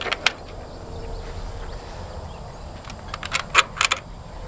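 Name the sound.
unlocking the chicken tractor door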